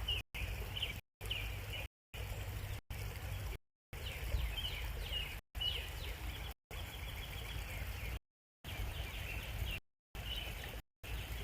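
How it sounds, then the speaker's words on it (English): Robins singing outdoors during a birdwatching walk, repeated bright whistled phrases in short bursts with gaps between them, heard at a moderate distance over a low rushing background like a stream. "Oh, listen to those robins."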